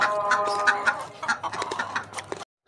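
A hen clucks repeatedly in a short, busy run of calls, close and fairly loud, with no talk over it.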